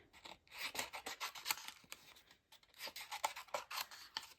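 Small snips cut through paper for stamped decorative magnets, a close series of quick crisp rasping snips in two bursts with a short pause between them.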